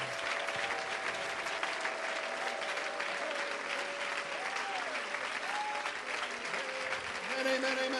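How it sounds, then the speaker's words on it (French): A church convention congregation applauds in praise, steady broadband clapping filling the space with a few voices and tonal sounds rising over it. "Let's give him a hand of praise."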